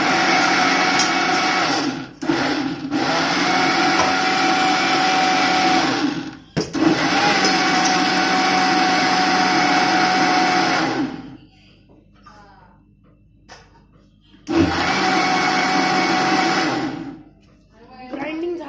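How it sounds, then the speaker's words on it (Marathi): A mixer grinder blending mango juice with sugar: loud, steady high-pitched whirring in several bursts, stopping briefly between runs, with a quiet gap near the end before a final short burst. "ग्राइंडिंग चालू आहे."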